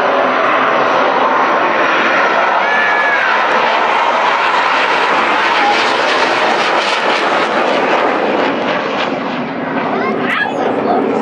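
A low-flying jet aircraft circles right over a beach house, its roar loud, close and continuous, swelling and slowly shifting as it passes overhead.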